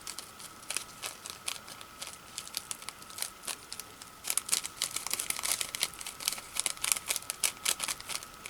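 A plastic bag crinkles as it is handled while a junk journal is being made, with close, irregular rustles and crackles under a faint steady hum. The crinkling grows denser and louder in the second half.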